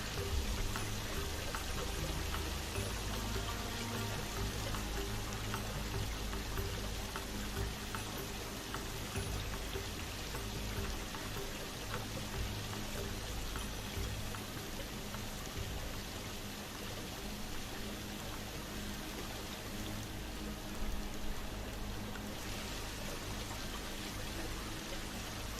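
A small decorative waterfall at a zoo entrance pours and splashes steadily, a soft continuous rush of falling water with no voices.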